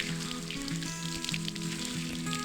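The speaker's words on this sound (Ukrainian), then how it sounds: "Дощик гарний в нас іде." Cartoon rain falls on a farm over freshly ploughed ground, a steady dense patter and sizzle continuing throughout under a sustained musical tone.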